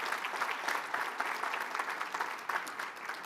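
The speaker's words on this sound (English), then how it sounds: "You can applaud them, we can keep it going." Audience at a Georgia Chamber rural awards event applauding an award winner, a steady, moderately distant wash of clapping from a sizeable crowd lasting several seconds with no talk over it.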